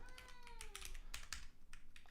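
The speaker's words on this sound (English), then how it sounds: "I have a cat in the room." A cat in the room gives a faint drawn-out meow, quiet and close, mixed with soft computer keyboard typing clicks.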